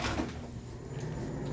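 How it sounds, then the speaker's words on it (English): A sticking door in a building under renovation gives a brief muffled knock and scrape as it is forced open or shut, over a low steady room hum. "And that door just gets stuck sometimes."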